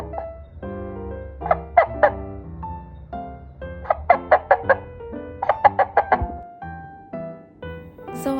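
A homemade paper cup friction toy squawks in bursts of rapid clucking that mimic a hen, loud and close, with short pauses between the rhythmic runs.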